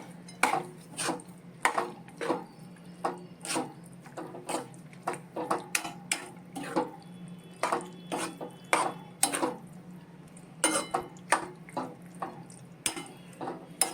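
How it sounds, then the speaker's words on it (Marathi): Grated fresh coconut and peanut powder are mixed in a bowl for a yogurt okra dish, making a steady run of close clinks and scrapes of a utensil against the bowl in an uneven rhythm. "ओलं नारळ घातलेलं आहे खवलेला हे दाण्याचं कूट घातलेलं आहे आणि हे आपण चांगलं मिक्स करून घेणार आहोत"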